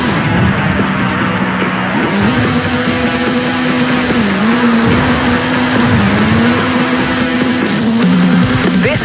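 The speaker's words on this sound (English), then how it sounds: "This is Mr. Kenneth Block's Hooligan Gymkhana 10 Ford Focus RS RX. 2-litre, turbocharged, front-mounted engine and all-wheel drive." Ken Block's Hooligan Gymkhana 10 Ford Focus RS RX, a 2-litre turbocharged front-engined all-wheel-drive car in Forza Horizon 5, roars loudly and continuously, its revs rising and dipping repeatedly while tires squeal.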